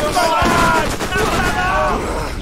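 Rapid gunfire from the video game Borderlands crackles in loud repeated bursts, with excited voices talking over the shots.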